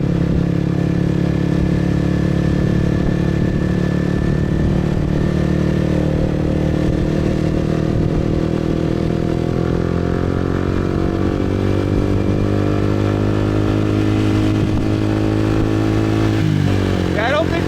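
A motorcycle rides along a road in Vietnam, its engine droning steadily and loud close by, the pitch shifting as it accelerates, with riders talking over it.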